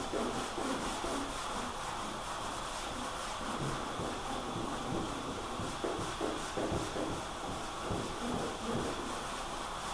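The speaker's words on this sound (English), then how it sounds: "So yeah, we'll just give it a quick sand." Block sanding primer on a car body, a continuous close rasping rub with rhythmic back-and-forth strokes over a steady hiss, without talking.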